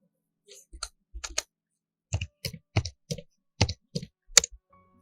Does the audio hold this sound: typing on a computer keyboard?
yes